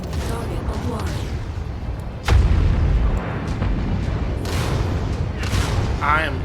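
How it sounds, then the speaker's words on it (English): Explosions and gunfire rumble through a Mech5: Mercs battle, with a heavy boom landing midway over a continuous roar of combat noise. Synthetic game voices and other effects sit in the mix. "Enemy explosion detected."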